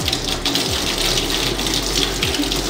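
Sensor-operated tap runs water steadily at a surgical hand-scrubbing station in an eye hospital, a close, continuous gushing stream with no voices.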